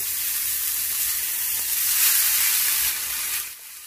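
Tender tamarind leaves sizzle and fry steadily in a pan for chinta chiguru pachadi, a close, continuous crackling hiss that softens near the end.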